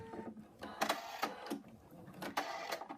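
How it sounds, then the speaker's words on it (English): A home embroidery sewing machine stitches outlines onto fabric with quick, fairly quiet bursts of mechanical stitching and short pauses between runs. "It's now going to stitch out the outlines of the arms and legs, tail, and ears."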